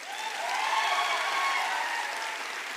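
A seated audience at a network marketing training event claps together in a steady burst of applause for an army subedar major, rising quickly and holding strong for a few seconds before easing slightly.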